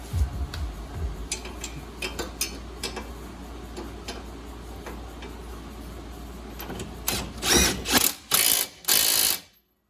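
A 17 mm ratchet wrench tightening a sway bar end link on a 2023 Mustang. It makes irregular clicking ticks, then several louder bursts of ratcheting near the end, close up with no talking.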